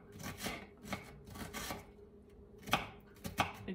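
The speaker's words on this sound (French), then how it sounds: "je vais aller couper mes oignons" A knife chops onions on a board in a run of quiet, uneven strokes, with clusters of soft thuds and scraping cuts separated by short pauses.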